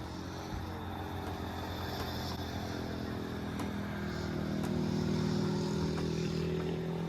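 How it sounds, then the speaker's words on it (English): A steady low engine drone of motorcycles far off in the Dominican Republic countryside, continuous and faint, with a slight swell in the middle. "You can still hear the motorcycles up here."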